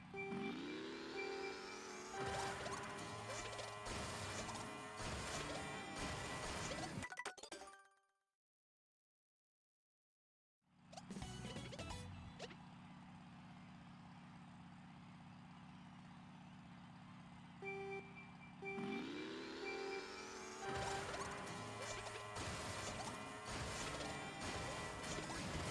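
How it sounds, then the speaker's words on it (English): Rail boost in the Mario Kart World video game on the Airship course during a time trial: loud continuous kart engine and game sound effects with sharp crashing hits, a brief dropout of silence midway, then the racing noise resumes. "that was definitely a rail boost"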